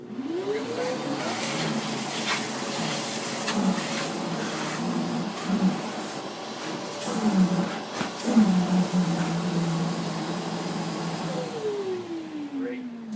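A vacuum cleaner roars steadily for several seconds while cleaning a factory-built fireplace, its motor whine rising at the start and winding down at the end, with some bumping and handling noise.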